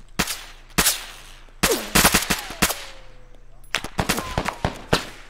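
Gunfire in a multiplayer shooter video game: sharp, loud separate shots in quick bursts and single cracks, close by, with a little electronic whine between them.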